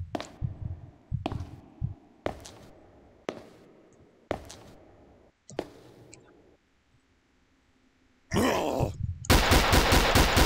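Gunshots fired one at a time in the Nightmare Simulator 2 horror game, about six sharp cracks at uneven intervals with echoing tails, then a brief quiet before loud harsh bursts close the clip.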